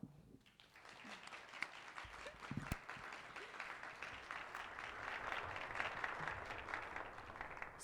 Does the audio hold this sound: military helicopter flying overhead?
no